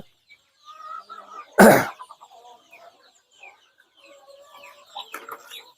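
Chickens cluck softly and repeatedly in the background at a free-range country poultry farm, with a short sharp burst of noise near the start.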